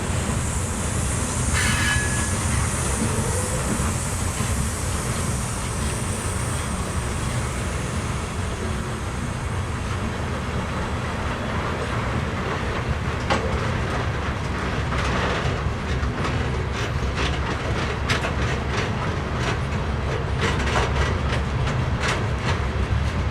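A slow westbound BNSF coal train near Spokane Valley rolls past, its wagons giving a steady, loud rumble with rhythmic clickety-clack from the wheels over rail joints. There is a brief squeal early on and no talk.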